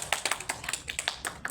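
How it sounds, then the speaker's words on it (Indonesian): Classroom applause for a student: a short burst of quick, light, uneven claps from a small group, close and fairly soft, with no talking. "Tepuk tangan untuk Rilan."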